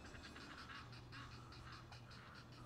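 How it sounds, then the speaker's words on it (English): Ducks squabbling on a fall walk, a rapid run of harsh quacks and honks throughout, fairly close over steady outdoor background noise, with no talking. "I think these ducks are fighting."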